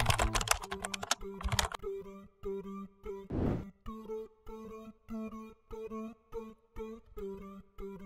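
Keys tapped on a computer keyboard while entering a search term into a search bar, in quick irregular clusters of close clicks, with a brief rustle partway through and no voice.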